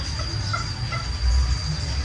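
Chickens clucking behind a house, a steady low murmur of soft clucks and fowl calls at moderate distance with a constant faint background hum, no talk.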